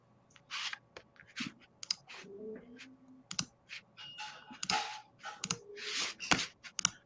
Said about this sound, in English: You still hear Heather's clicking.